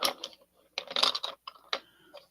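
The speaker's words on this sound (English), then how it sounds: "sorry for the noise. I'm going through my pencils I've got laying here" Colored pencils clatter and click as they are sorted through, a few close bursts of light wooden tapping and rattling separated by short pauses.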